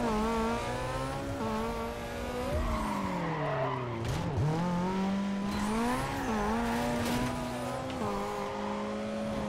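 Cars race in Need for Speed Carbon, engines droning and revving with long tire squeals and skids through corners, loud and continuous with no talk over it.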